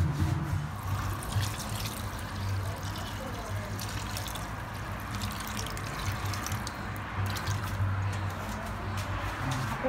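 Water runs from a tap into a cooking pot for papaitan, a steady gurgling fill with drips and trickles that lasts throughout, under a low background hum and occasional talk.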